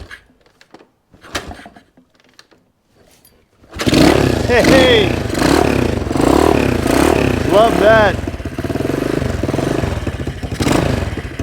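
A Honda XL185S motorcycle that had been left sitting: after a few quiet clicks and faint fumbling, the engine suddenly catches and roars into loud, uneven revving with rising and falling pitch, while a person briefly calls out over it.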